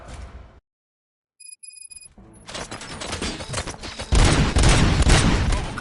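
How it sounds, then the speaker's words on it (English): Gunfire in Robocop: after a brief silence and a few high electronic beeps, a dense fusillade of rapid shots builds, growing louder and heavier toward the end with booming low impacts. "Gunshots? What's going on?"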